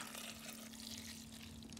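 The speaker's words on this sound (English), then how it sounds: "into this dish, I'm going to pour some red wine" Red wine is poured into a dish, a soft, steady liquid trickle heard up close and fairly quiet, with a faint hum beneath and no talk.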